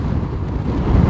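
Strong wind buffets the microphone during a fast road stage of a cycling tour in Goiás, a steady low roaring rumble that swells slightly near the end, with no voices.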